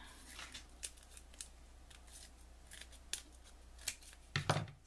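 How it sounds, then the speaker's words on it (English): Scissors trim card paper for a handmade Mother's Day card, with a series of quiet, close snips spaced irregularly and a slightly louder double cut near the end. "I'm going to trim this off a little bit."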